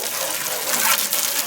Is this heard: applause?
no